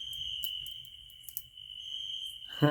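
Steady high-pitched cricket chirping runs throughout, a continuous insect trill over quiet background, with a brief rustle near the end.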